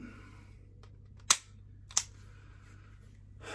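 Dry-fire practice with a pistol: two sharp mechanical clicks about two-thirds of a second apart, a trigger snap then a slide rack, crisp and close in a quiet room.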